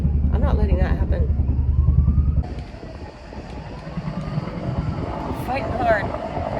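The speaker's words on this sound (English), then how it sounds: "Your airplanes, your helicopters, the sea isn't far, so they can load up really fast" Firefighting aircraft working over a village wildfire near the sea produce a loud droning engine rumble for a couple of seconds that then drops away, with a person talking throughout.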